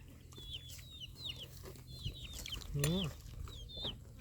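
Chickens cluck and a rooster calls in short bursts over steady low background noise, with a louder squawk near the middle.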